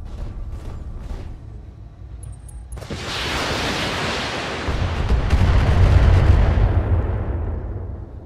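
Mech weapons in the BattleTech video game unleash a heavy barrage: a few faint bursts, then a sudden loud roaring blast of fire and explosions that swells and rumbles for several seconds.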